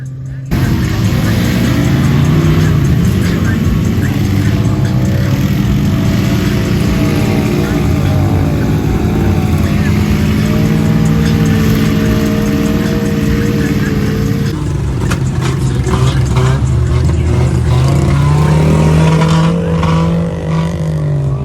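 Chevy monster mud truck engine at a mud bog event, loud and sustained throughout with rising and falling revs, voices talking over it.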